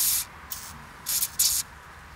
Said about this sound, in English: We can actually spray that now that we've got it off.